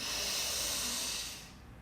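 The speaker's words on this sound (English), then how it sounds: "let's take a breath in together. Let's breathe in." One deep, drawn-out inhale during a guided breathing exercise, a close, airy hiss that stays steady and then fades away at the end.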